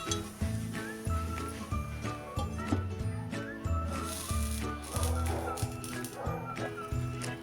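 Bitter gourd sizzles softly in a pan with salt while a utensil stirs and clinks against the metal in an uneven rhythm, with music playing underneath.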